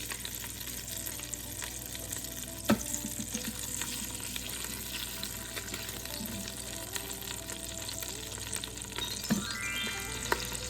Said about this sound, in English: these things sound like popcorn. They're so loud and popping and exploding from all of the water in them being in the bacon grease